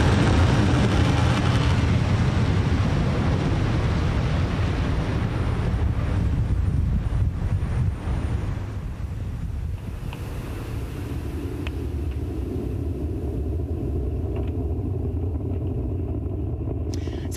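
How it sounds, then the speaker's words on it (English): SpaceX Falcon 9 lifting off from Launch Complex 39A at Kennedy Space Center: a loud, steady, wind-buffeted roar fills the whole stretch, easing slightly partway through but continuing as a deep rumbling thunder. "Falcon 9 has successfully lifted off from Launch Complex 39A at Kennedy Space Center"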